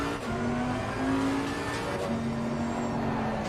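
A race car in Assetto Corsa Competizione roars past on track, a loud steady engine drone with shifting pitch, no talking.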